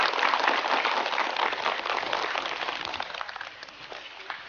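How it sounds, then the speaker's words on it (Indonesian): Brief round of clapping from a religious gathering's audience in Indonesia, fairly soft and distant, starting fullest and gradually thinning out over a few seconds. "Tepuk tangan buat Pak Fauzani."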